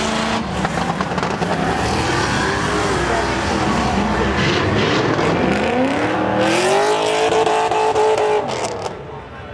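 Cars race in spectator drags at Seekonk Speedway, with loud engines roaring and climbing in pitch as they pass, tires squealing briefly, and crowd noise underneath throughout.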